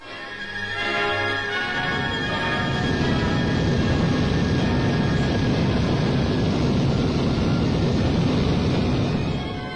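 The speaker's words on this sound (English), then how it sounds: "I boarded a BOAC Hermes aircraft at London Airport only a few days ago to fly to Nairobi" A BOAC Hermes propeller airliner drones steadily in flight, a loud, even engine roar rising within the first second and holding for the rest of the clip.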